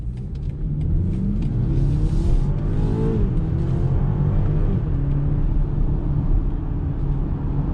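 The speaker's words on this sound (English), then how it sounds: "once that turbo spools up and this SUV just goes" A 2022 BMW X3 compact luxury SUV in sport mode accelerating hard as its turbo spools up, heard from inside as a steady rumbling engine note rising in pitch through gears, with continuous road noise and no talk.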